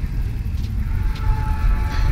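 A train in the video game Night in the Woods rolling past as a steady low rumble with faint higher clatter, continuous and moderately loud, with no talk.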